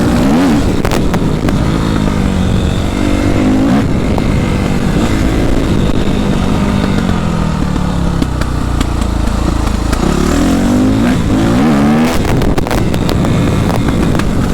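A Suzuki RM-Z 250 motocross bike engine revs up and down repeatedly, loud and close, with rising and falling whines over heavy wind buffeting, on Réunion island.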